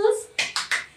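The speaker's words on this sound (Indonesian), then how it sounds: "Tepuk tangan dulu buat Tuhan Yesus." At a children's Sunday school service at HKBP Tangerang Kota church, a voice is briefly heard, then three quick, sharp hand claps follow in close succession.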